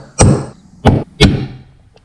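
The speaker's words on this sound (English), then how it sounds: "Use an 1/7/16 socket to fit perfectly on the seal here, and then smash it with a fucking hammer." A hammer drives a socket onto a seal of a Harley Dyna set up on 2x4s, three heavy thuds landing close and loud with uneven gaps between strikes.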